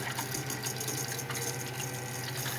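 A coolant pump circulates demineralized water and antifreeze into a tube of an xTool P2 laser cutter, giving a steady low hum with a soft watery gurgle and rush throughout, close and without speech.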